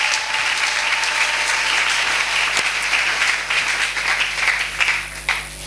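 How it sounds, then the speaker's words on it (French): A church congregation claps and applauds the Lord in a sustained, dense wash of applause. It holds steady at close range, with a brief sharp accent midway. "Acclamez le Seigneur"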